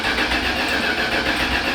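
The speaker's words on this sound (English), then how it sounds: "Firing up the Ramcharger with that Holley carburetor and the ignition hooked up." A 1987 Dodge Ramcharger with a Holley carburetor cranking and firing up, a steady loud mid-pitched engine churn close by with no talk.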